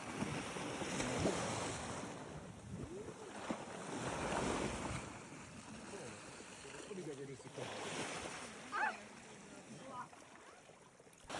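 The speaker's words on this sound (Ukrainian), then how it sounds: "Тут відчувається не хвилі, а дихання океану." Ocean surf on the coast of Tenerife surges and washes over seaside steps in slow, breathing swells, with a steady broadband wash that rises and falls, heard alone without talk.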